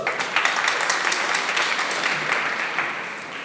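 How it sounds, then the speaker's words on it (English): An audience claps steadily, a dense wash of applause that holds at an even level throughout without any voices. "Big round of applause"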